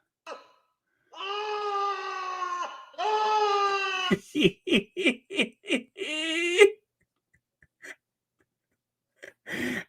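Screams from a played recording: long, shrill wailing cries, then a rapid series of short sobbing shrieks ending in one more drawn-out wail, loud and alone with brief quiet gaps.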